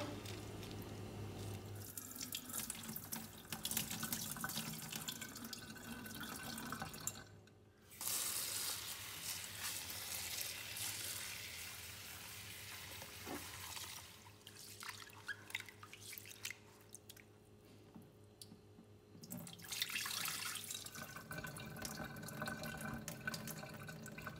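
Brown rice and black beans rinsed under a running kitchen tap, water splashing and dripping steadily into a sink for most of the stretch, with a couple of brief pauses where the flow cuts off.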